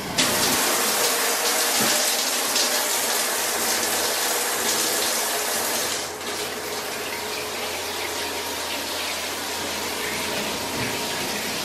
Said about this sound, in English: Let's quickly turn on the shower to show you how well this large format tile drains.